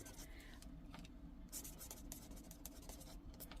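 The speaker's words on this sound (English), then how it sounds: "It's going to be good for writing." Soft scratchy strokes of a Stampin' Up! marker pen writing on paper, quick irregular scribbles, faint and close under low background noise.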